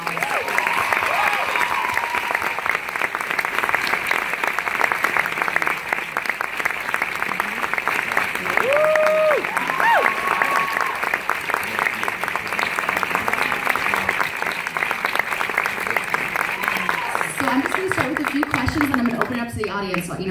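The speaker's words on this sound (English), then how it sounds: "please give them another round of applause" Sustained applause from an audience at a talk event, a continuous dense wash of clapping for around twenty seconds, loud and steady, with faint tonal sounds and a voice surfacing briefly near the end.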